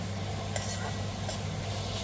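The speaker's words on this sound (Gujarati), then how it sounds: "અને હવે આપણે સરસ રીતે મિક્સ કરી દઈશું" Rajma (kidney bean curry) tempering sizzles steadily in a pan while a utensil stirs and scrapes now and then, close by, with no voices.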